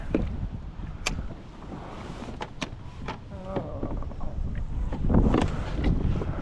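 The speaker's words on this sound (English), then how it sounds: "here's that darn wind again. That wind's not going to let me do anything today" Gusty outdoor wind buffeting a microphone near water, a loud rumbling roar that rises and falls, with sharp knocks and crackles scattered throughout.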